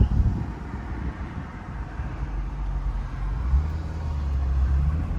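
Steady low engine rumble from inside a moving 2007 C6 Corvette with a V8 and six-speed manual, a muted drone that swells slightly toward the end.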